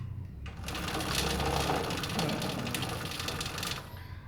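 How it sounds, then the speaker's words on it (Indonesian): A motorcycle's rear wheel and drive chain are turned backwards by hand, making a rapid, continuous mechanical ticking and whirring that runs steadily for several seconds before stopping. "kita putar roda belakang ini ke belakang."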